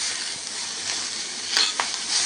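A curry leaf mixture for thuvaiyal is stirred in a hot pan off the heat, giving a steady close sizzle with a couple of brief scraping bursts near the end; no talking.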